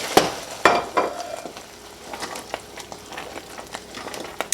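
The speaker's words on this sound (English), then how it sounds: "I'm going to add 2 teaspoons of vanilla. And again, it's going to bubble up." Hot pecan pie filling bubbling and sizzling in a pan right after vanilla is added, with a few sharp clinks of a utensil near the start, then a steady, moderately loud crackle with small pops.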